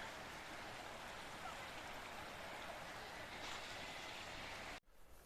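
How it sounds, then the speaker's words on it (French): A stream rushes over the top of a waterfall in a steady, broadband roar heard from nearby, continuous for several seconds before cutting off abruptly near the end. "on est sur le haut de la cascade"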